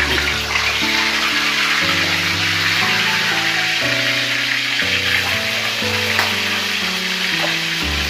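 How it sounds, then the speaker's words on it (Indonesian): Chicken frying in hot oil gives a steady, dense sizzle that runs the whole time beneath a melodic music track. "Ayamnya digoreng."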